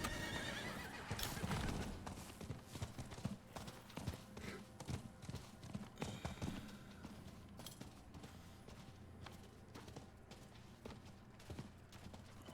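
A horse mount in Diablo IV whinnies loudly, followed by a steady clip-clop of hooves running, with faint game ambience behind.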